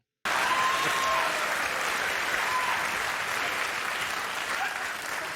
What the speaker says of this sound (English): How can anybody clap for this?